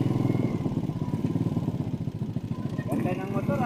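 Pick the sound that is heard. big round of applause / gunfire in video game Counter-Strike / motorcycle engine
motorcycle engine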